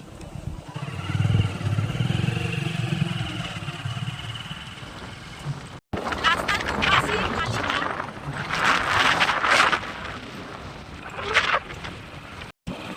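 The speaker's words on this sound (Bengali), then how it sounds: "স্ট্যান্ড থেকে আমরা বাইকে যাচ্ছি" Motorcycle ride on a village road past fields, a steady engine drone with wind rush buffeting the microphone, close and continuous, with voices talking over it.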